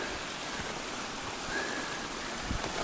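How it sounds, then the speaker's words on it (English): A waterfall on the Timberline Trail roars steadily, a dense, even rush of falling water that fills the whole scene without pause. "Look at this waterfall."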